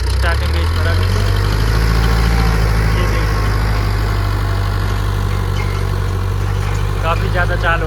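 Digitrac PP 46 tractor pulling a harrow through a field in second high gear; a loud, steady low engine drone runs without pause, with someone talking over it.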